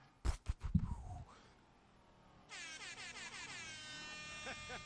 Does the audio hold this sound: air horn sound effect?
yes